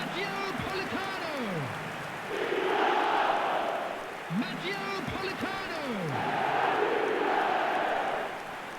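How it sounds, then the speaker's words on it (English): Stadium crowd noise in the eFootball football game swells and recedes in two broad waves, a steady roaring wash with rising cheers, heard under commentary-like voices. "the crowd are reacting to that now"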